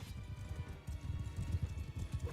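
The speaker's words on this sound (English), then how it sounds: "Oh, these cav are running them down now." Cavalry horses gallop across a Bannerlord battlefield in a steady run of close, thudding hoofbeats, with no voices over them.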